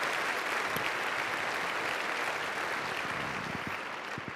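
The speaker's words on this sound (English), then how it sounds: "give yourselves a round of applause for that" A crowd at a community breakfast claps loudly, a dense and steady round of applause that fades slightly toward the end.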